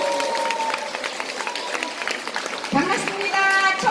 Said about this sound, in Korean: 큰 박수로 맞으시길 부탁드리겠습니다.